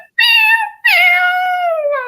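A person imitates a cat meowing, giving two loud, close, drawn-out meows in a row, the second longer and sliding downward in pitch, with no other sound around them.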